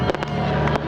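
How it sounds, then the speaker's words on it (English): Air show fireworks boom and crackle at night, a dense run of loud, close bangs and pops layered over a continuous rumble. "the air show closed with a fireworks display, both from the air and on the ground"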